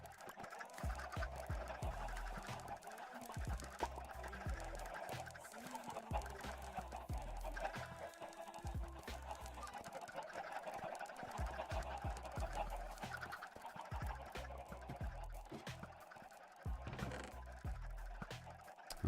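Chickens clucking in the Minecraft video game, a run of short repeated clucks and scratchy pecking sounds at a moderate level, alone without talk.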